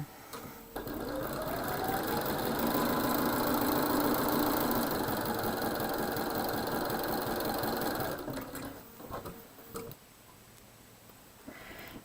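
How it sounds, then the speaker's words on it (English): Sewing machine chain sewing quilt blocks, a steady fast mechanical stitching hum running for about eight seconds before slowing and stopping, with faint background noise afterward. "I'm going to drop down and get the other two short ones in the second block that we're making, just so that I can chain sew"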